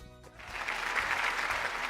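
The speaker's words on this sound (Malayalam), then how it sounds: "ഒന്ന് കൈയടിച്ചേ" A TV game show studio audience breaks into clapping after a brief moment, a dense burst of applause that swells and holds steady.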